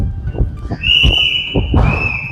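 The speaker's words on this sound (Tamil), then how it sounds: "விசில் அடிக்கிறாங்க" Whistling heard in a Tamil film song scene, a sustained high whistled tone running through the second half over a rhythmic musical backing.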